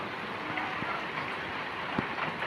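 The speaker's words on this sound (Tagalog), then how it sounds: "malakas ang ulan diyan" Heavy rain pours steadily on a mountainside, a dense constant hiss with a few sharper drops or knocks standing out.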